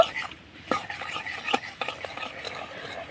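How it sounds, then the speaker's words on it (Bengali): Jaggery melts with a little water in a wok while a utensil stirs it, giving soft scraping strokes and light clinks against the metal, quiet and irregular. "এবার নাড়াচাড়া করে গুড়টাকে গলিয়ে নেব।"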